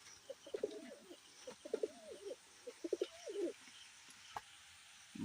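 Pigeons at a pigeon farm coo in soft, repeated rolling calls close by while feeding, with scattered light taps between them.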